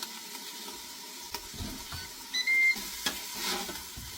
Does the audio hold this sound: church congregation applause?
no